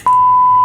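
A single loud, steady electronic censor beep holds one flat tone for well under a second, cutting in abruptly and stopping just as sharply.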